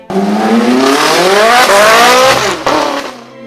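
A loud sports car engine revs and climbs in pitch through the gears, with a throaty Capristo exhaust roar and a brief drop before revving again.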